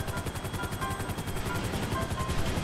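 Helicopter in the video game GTA Online, rapid pulsing rotor chop beating steadily throughout, moderately loud and close, with no talk.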